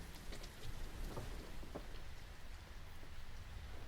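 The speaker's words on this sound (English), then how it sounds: "It's raining, Mom." Steady rain falls outdoors at a coronation day in London, a soft continuous patter of drops on surfaces, moderately faint and even throughout with no talk.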